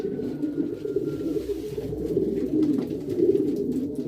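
Low, throaty cooing of a male homing pigeon courting a female rolls on continuously, a soft warbling murmur close by with a faint steady background hum.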